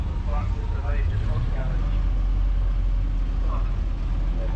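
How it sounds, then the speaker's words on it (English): Old Land Rovers roll out of the show ring at the Glamis Scottish Transport Extravaganza, a steady, close low engine rumble with voices talking over it. "You can smell all the exhaust fumes from these old Land Rovers."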